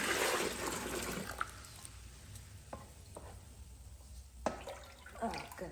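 Maple sap is scooped out of a wok into a pot, giving wet sloshing and pouring at first, then scattered small clinks and splashes, quiet and close by.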